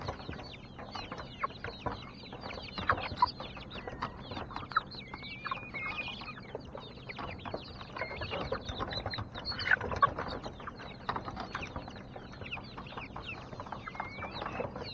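A flock of chickens clucks and pecks while eating a banana, giving soft, busy, overlapping clucks and scattered pecking taps at close range, with no talk.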